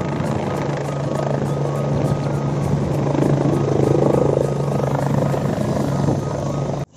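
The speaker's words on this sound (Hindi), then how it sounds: "ये यहाँ पर हेलीकॉप्टर लैंड होता हुआ बिल्कुल हमारे फेस के आगे" Helicopter landing at Kedarnath in the mountains, a close, loud, steady rotor thump and engine whine filling the whole stretch before cutting off abruptly.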